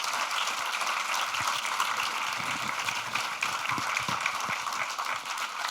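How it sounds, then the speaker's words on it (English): An audience at a civil discourse event on immigration applauds its panel with steady, dense clapping that fills the room and holds at an even level throughout, with a few sharper claps standing out. "let's have a round of applause for the panel"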